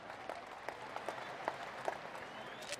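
Scattered applause from a political party rally crowd, light and somewhat distant, with a few sharper claps standing out over a soft murmur.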